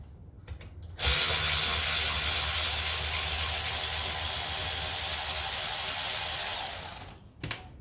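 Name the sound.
wind blowing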